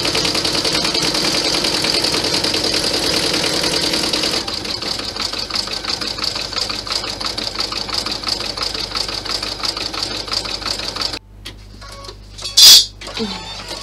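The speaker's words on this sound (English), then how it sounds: "So it's just going to stitch the satin stitch now." A machine embroidery unit stitches a satin stitch on a Classy Clutch project, a fast mechanical whirr with a rapid needle rhythm, louder at first and then softer, ending with a short pause and a brief beep.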